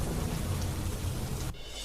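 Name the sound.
heavy rain with thunder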